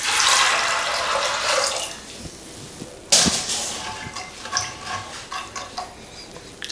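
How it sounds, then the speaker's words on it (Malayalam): Water pours into a pressure cooker holding chickpeas, a close splashing stream for about two seconds, then quieter clinks, taps and small splashes as the pot is handled. "ഇനി കുറച്ച് വെള്ളം ഒഴിച്ചു കൊടുക്കണം."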